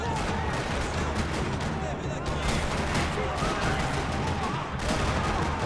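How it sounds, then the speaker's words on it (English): Dense, continuous gunfire in Max Payne 3 crackles through the whole stretch in a parking lot, a busy fusillade of shots blending with game noise and occasional voices underneath. "Another parking lot rattling with gunfire."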